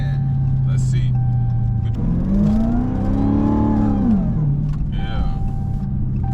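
Dodge Hellcat engine idling with a deep rumble, then revving up in a loud rising and falling sweep before settling back to idle, heard close from inside the car while people talk.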